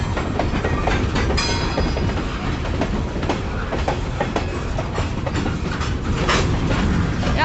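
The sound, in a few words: train passing at night, Kiamichi Railroad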